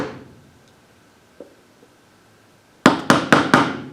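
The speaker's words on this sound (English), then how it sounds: "So I'm going to take my scratch awl and my mallet." A mallet taps a scratch awl into wood with four sharp, evenly spaced knocks near the end. A fainter tap comes before them, and the room is otherwise quiet.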